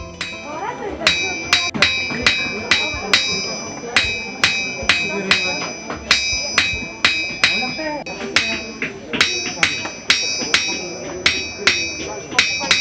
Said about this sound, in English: the sound of hammering echoing down the street